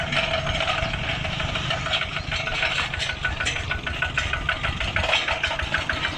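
A small tractor engine chugs steadily throughout with a rough, knocking rhythm and no pauses, fairly loud and close.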